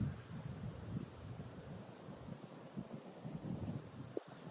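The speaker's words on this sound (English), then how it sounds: "wait for this wind to pass." Wind gusting outdoors near trees while in a tree saddle, a steady low rumbling buffet with microphone wind noise, constant throughout and ending with a brief thump, no talk.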